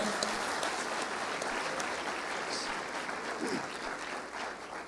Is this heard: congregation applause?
yes